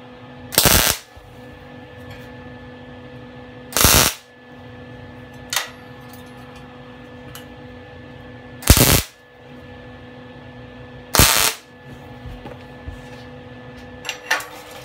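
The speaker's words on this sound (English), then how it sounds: "you're just gonna weld one spot on the back of each foot and one spot on the front of each foot" Short, sharp bursts from small, quick tack welds on thin expanded scrap metal, four loud crackling pulses spaced irregularly over a steady background hum, with a few fainter ticks between them.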